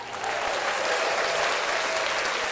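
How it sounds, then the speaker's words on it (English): Applause sound effect played from a soundboard, a steady burst of crowd clapping that rises quickly and holds evenly, loud and close, with no speech over it. "I was wondering if the board had applause"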